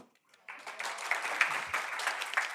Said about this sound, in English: I allow for a loud applause.